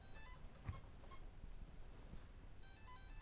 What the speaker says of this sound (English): two beeps for the 2-cell lithium polymer battery, and then the arming chimes from the TorqueMaster BRXL ESC